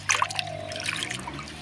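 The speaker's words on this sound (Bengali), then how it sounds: "তো দেখো, আমি এবার এই পাতাগুলো ভালো করে ধুয়ে নিচ্ছি" Kulekhara leaves are being rinsed in water, with splashing and trickling up close, a few sharper splashes at the start and then steadier dribbling.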